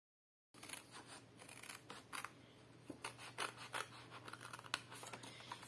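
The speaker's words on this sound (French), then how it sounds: "Je vais déjà couper l'autre côté." Scissors snipping through paper card stock for a handmade pull-tab card, a quiet series of close, crisp cuts and scrapes in an irregular rhythm, with a low steady hum underneath and no speech.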